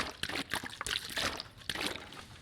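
Water pours in The Long Dark survival game, a close, bubbling trickle with several short splashing bursts in quick succession.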